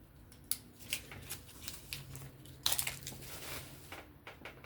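A Kizer pocket knife slices through a card in a series of short, crisp cutting and scraping strokes, close and fairly quiet, spaced irregularly with brief pauses between them.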